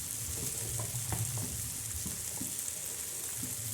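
Methi (fenugreek) and tomato curry sizzles softly in a pan, a low steady frying hiss broken by faint stirring scrapes and clicks, quiet and close with no talking.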